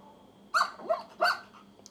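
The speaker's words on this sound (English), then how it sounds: "And now the corgi dog." A corgi barks twice, sharp and close, with a smaller yelp between the two barks, played alone in a short sound clip with no talk.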